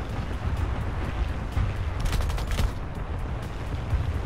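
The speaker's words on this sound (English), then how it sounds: "there's my gun shooting when I click on my stick again" Ship guns fire in a naval video game battle, a dense rumbling barrage with a louder cluster of crackling shots in the middle, continuous and fairly close.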